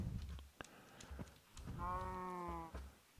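A Minecraft cow gives a drawn-out, harmonic moo at sunset in a vanilla hardcore world (version 1.17.1), clear and fairly close, set between short game sound effects with no talking.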